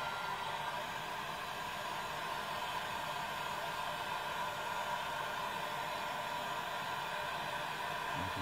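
A hot air plastic welder blows heat onto a polyethylene kayak hull during a repair, giving a steady, even rushing hiss like a hair dryer that holds unchanged throughout, close and continuous with no voices.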